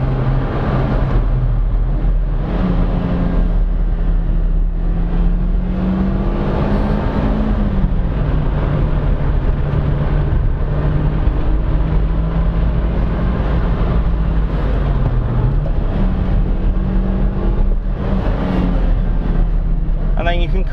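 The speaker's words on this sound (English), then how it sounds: "just leave it in about fourth gear, and it pootles along quite happily" A Daihatsu Cuore Avanzato TR-XX pootling along in fourth gear on a village road, with a steady, loud engine drone and road noise; its pitch dips and rises slightly, and someone talks over it.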